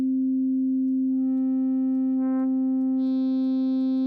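A steady FM synth tone holds while brighter harmonics sweep in and a modulated resonant peak flares briefly, then a high buzzy layer joins near the end; no voices.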